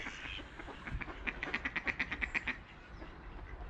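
Ducks quack in a quick, evenly spaced run of about ten calls at moderate distance, set against faint outdoor ambience.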